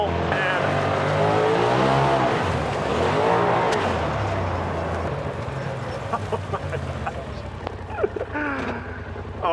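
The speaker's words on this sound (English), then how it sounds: "just a nice little surge of throttle" Polaris side-by-side off-road vehicle accelerating along a dirt trail, its engine surging and rising in pitch close by, with a rattling, rumbling drivetrain and brief squeaks over a steady loud roar.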